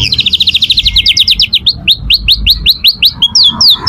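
An F1 canary sings up close and loud, a rapid run of bright, repeated chirping notes that keeps a fast, steady rhythm and then breaks into clipped, rising whistled phrases, with no other voices present.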